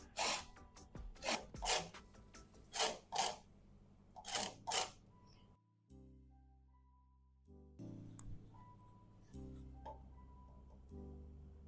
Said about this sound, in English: First thing I'm going to do is I need the zest of one lemon.